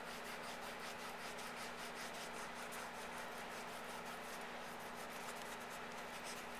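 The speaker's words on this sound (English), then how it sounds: "I'm just lightly rubbing this off since I don't want to tear the image itself." Fingers lightly rubbing newsprint paper off an image transfer make faint, quick, repeated scratchy strokes over a constant low electrical hum.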